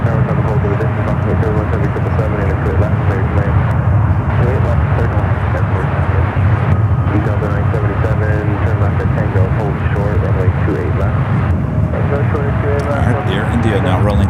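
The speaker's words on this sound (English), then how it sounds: "Air India now rolling down to 28 left" An Air India airliner rolls for takeoff on runway 28 left at San Francisco airport, a loud, steady engine roar with broadband rumble that holds throughout, heard from nearby.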